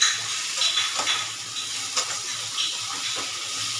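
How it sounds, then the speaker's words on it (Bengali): Spice paste with ground cumin frying in a pan while being stirred, a continuous crackling sizzle with irregular scraping strokes, close and fairly loud. "এবারে মশলাটাকে ভালো করে কষিয়ে নিচ্ছি"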